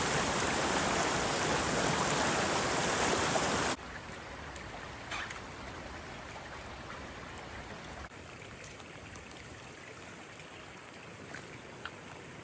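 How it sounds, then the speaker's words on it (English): Steady broadband rush of water running down a hiking trail on the Overland Track, loud at first then quieter and continuous after a few seconds, with no voices. "little trickles of water and bigger streams running on the path"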